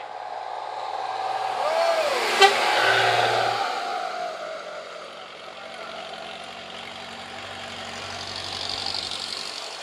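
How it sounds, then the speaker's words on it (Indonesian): A Pinem Baru bus arrives at Simpang Bangko, its engine a steady low rumble that swells and fades, with broad road noise and a brief sharp click near the middle. "Terpantau bus Pinem Baru sampai di Simpang Bangko"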